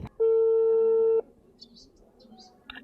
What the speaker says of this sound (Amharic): እስካሁን እየጠራ ነው። ምንም መልስ የለም።